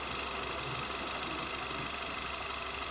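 A car engine idles steadily with the clutch pedal held down, a constant low rumble with a faint mechanical rattle and whine running evenly throughout, close and continuous with no talking.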